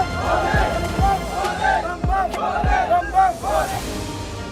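A crowd of devotees packs the inside of a Mahadev temple, with a steady babble of many voices and scattered calls and shouts rising over a constant hubbub.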